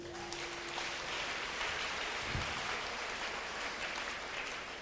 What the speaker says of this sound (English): Let's give Jesus a clap for this.